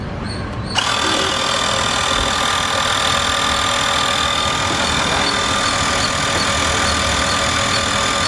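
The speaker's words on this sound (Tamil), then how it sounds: "பம்பு ஸ்டார்ட் பண்ண போகிறேன்." A Xiaomi portable digital tyre pressure pump kicks on after a brief quiet moment and then runs loud and steady, a whining, buzzing motor drone with a constant high tone, with no talking over it.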